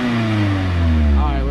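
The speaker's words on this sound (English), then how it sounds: "This is a stock exhaust. This is what it sounds like. Very quiet." A Mazda ND Miata on its stock exhaust revs once, a smooth, fairly subdued engine note climbing and then easing back, close and steady for about a second and a half.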